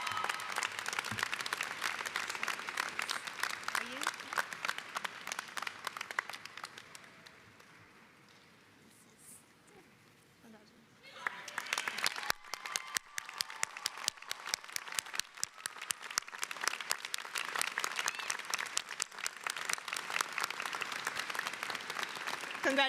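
Sustained audience applause for award recipients at a college commencement ceremony, dense clapping that fades to a lull midway, then swells back strong and steady until the end.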